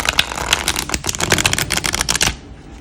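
Tarot cards riffle-shuffled by hand, giving a dense crackling flutter of cards snapping past each other for about two seconds, then a soft settling riffle as the deck comes together.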